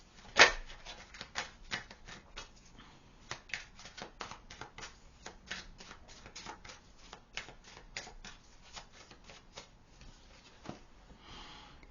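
Tarot cards shuffled and drawn by hand, a close, soft run of rapid papery flicks and riffles that continues steadily, with one sharper snap near the start and no talking.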